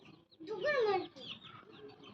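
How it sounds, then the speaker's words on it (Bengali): Taki breed chicken chicks make a single rising, warbling call that is faint and nearby, with soft background murmurs. "ওই যে টাকি মুরগির বাচ্চা দুইটা"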